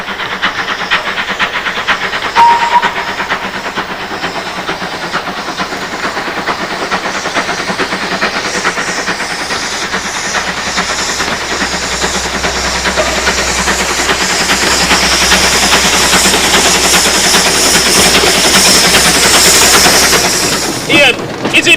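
A 115-year-old steam tank engine locomotive runs with a continuous loud hiss that swells louder through the second half, rumbling underneath, with no talk over it.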